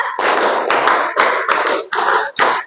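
A class of students claps a five-beat pattern twice, loud group hand slaps grouped into a steady run of bursts with brief gaps, close and energetic.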